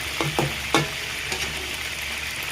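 Chicken meat frying in oil, a constant sizzle broken by a few short spattering pops and clinks early on, close and fairly loud, no talking.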